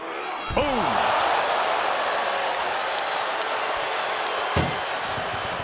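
A loud metallic door slam rings out in a WWE 2K24 ambulance match, followed a few seconds later by a second sharp slam, over a steady roaring arena crowd.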